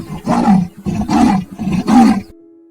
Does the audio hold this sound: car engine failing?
no